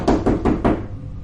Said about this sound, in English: there was a knock at the door that nearly made me jump out of my skin